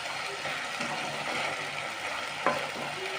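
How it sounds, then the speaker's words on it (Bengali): Pointed gourd sautés in hot oil with a steady broadband sizzle, broken by soft stirring scrapes and one brief louder clink near the end; close and continuous, with no voices. "কষানো হচ্ছে।"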